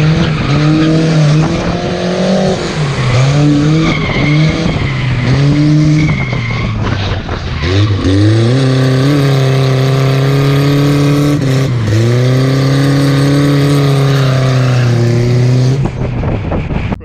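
Dodge Hellcat 740 doing tandem donuts, its engine revving hard and loud with tires squealing continuously across the whole stretch, pitch rising and dipping as the throttle swings, no talking.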